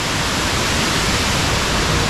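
Kirindi Ella near Pelmadulla, among Sri Lanka's tallest waterfalls, pours in a loud, unbroken roar of falling water, dense and continuous from start to end with no voices.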